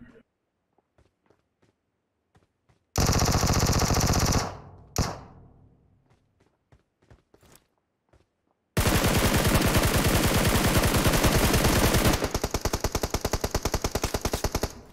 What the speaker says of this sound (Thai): โอ้ยิงกันอยู่ข้างหน้าครับ